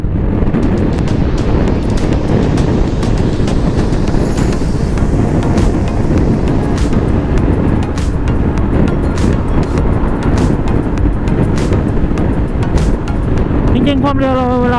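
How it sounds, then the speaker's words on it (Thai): A Honda Forza 350 scooter with a touring drive setup cruising at speed, a steady low engine drone buried under heavy, continuous wind rush, loud and unbroken throughout. "รบเครื่องต่ำๆแบบนี้นะ"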